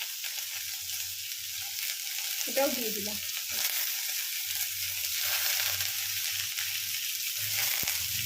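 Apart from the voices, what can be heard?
onion and potato frying in a pan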